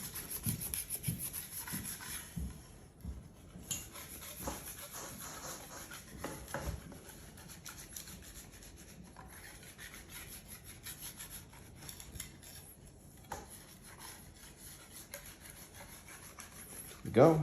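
A baker's knife scrapes pizzagaina dough off a counter in soft, repeated rubbing strokes, quiet and close, with a short louder knock at the very end.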